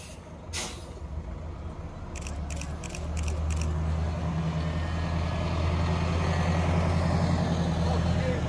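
An MBTA bus hisses its air brakes in a few short bursts, then a low engine rumble builds and holds steady as buses pass close by, with quiet talk underneath.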